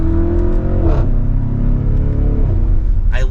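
A 2023 Audi SQ7 Prestige on the move gives a deep, loud engine drone with small exhaust crackles and shifting pitch as it drives through turns.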